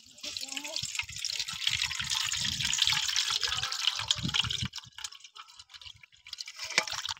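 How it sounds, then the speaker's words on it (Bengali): Soaked mango and ginger sharbat is poured through a strainer, making a continuous close trickle and splash of liquid that thins out into drips near the end, with no speech over it. "এবার আমি ছেঁকে নেব।"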